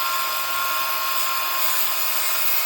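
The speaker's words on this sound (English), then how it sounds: "it'll also grind the welds down. But it takes a little bit of pressure." An angle grinder with an abrasive disc grinding down metal welds, a loud, steady, unbroken high whine that holds at the same level throughout, with no speech.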